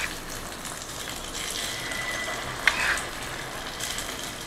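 Fish omelette batter fries in hot oil in a paniyaram pan, giving a steady soft sizzle with a brief brighter crackle midway, close and even, with no talking.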